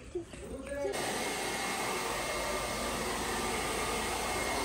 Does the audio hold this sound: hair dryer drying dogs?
yes